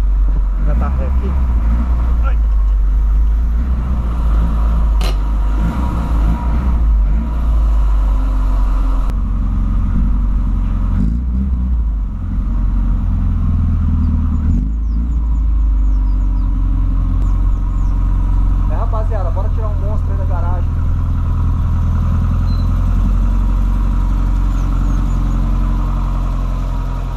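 A Volkswagen Voyage car engine runs while the car reverses, giving a loud, steady low rumble with a continuous mid-range hum. Occasional clicks and a voice come through over the engine.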